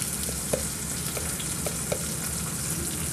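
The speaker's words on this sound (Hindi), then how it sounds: "अब हम इसमें एक मीडियम साइज़ का कटा हुआ टमाटर डाल देते हैं, और इसे भी हम चला देंगे अच्छे से।" Chopped tomato sizzles steadily in a frying pan for a potato and capsicum sabzi, with a few soft spoon clinks from stirring over the constant close frying hiss.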